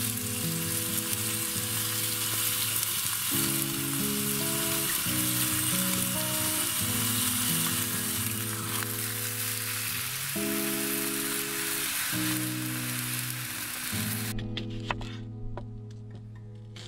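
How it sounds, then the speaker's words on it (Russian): Cut meat sizzles and fries loudly in a hot pan in a rustic reed hut during early spring, a steady crackling hiss with a low musical tone running beneath before it stops near the end. "На сковороду сразу идет порезанное мясо."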